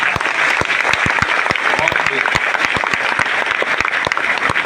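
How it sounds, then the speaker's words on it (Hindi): Loud, sustained applause from an audience honouring achievers at an education event in Burdwan, dense clapping with sharp individual claps standing out throughout. "तो सभी अचीवर्स के लिए एक बार जोरदार ताली होनी चाहिए।"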